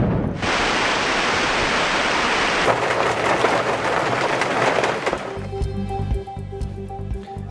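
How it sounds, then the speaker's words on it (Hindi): Heavy downpour in Rawalpindi roars as loud, dense, steady rain noise, then shifts midway to a sharper hiss, and in the last seconds gives way to faint tonal background sounds under the fading rain. "रावलपिंडी में मूसलाधार बारिश से नशेबी इलाके ज़ेर-ए-आब आ गए।"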